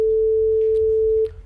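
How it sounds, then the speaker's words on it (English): A pure sine wave test tone, one steady unwavering pitch held for over a second before cutting off, faint background hum underneath. "That's just the frequencies we're hearing, single, pure frequencies in case of a sine wave."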